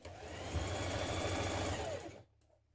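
A sewing machine stitches around the pockets of a trapeze dress in one steady, loud run of fast whirring, then stops abruptly into near silence.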